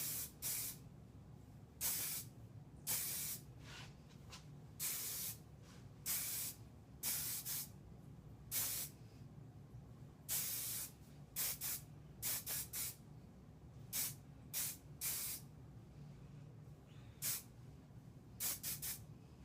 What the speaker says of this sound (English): I'm going to spray them and stretch them up so they'll be more curly.